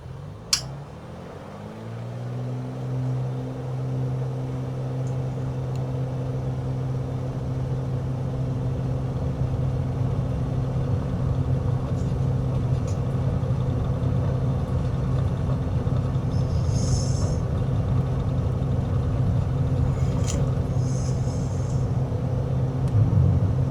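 An aircraft engine in a flight simulator, departing Troyes with flaps lowered, drones steadily as its pitch climbs and then holds in a constant roar through the takeoff roll.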